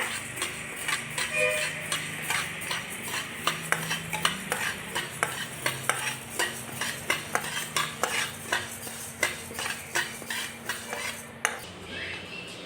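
Grains for a village-style nava dhanya laddu being dry-roasted in a pan, a spoon scraping and clinking against the metal in a steady, repeated stirring rhythm, close and fairly loud with no voices.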